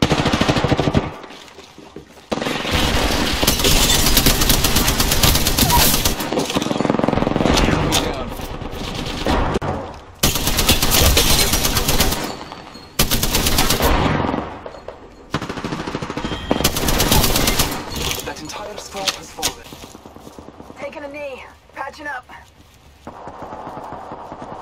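Rapid automatic gunfire rattles in Apex Legends, long dense bursts of shots separated by short pauses, loud and close, with brief quieter gaps and some faint game sounds toward the end.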